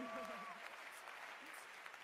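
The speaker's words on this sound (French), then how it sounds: "Mustapha El Atrassi, qu'on applaudit" A studio audience applauds a comedian on a French television show, with steady soft clapping throughout and a voice briefly heard at the start.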